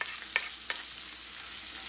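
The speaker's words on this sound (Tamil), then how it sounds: "இப்போ வெங்காயம் சேர்த்துக்கோங்க." Chopped onion sautés in a pan with a steady, bright sizzle and a couple of short scrapes or clinks near the start.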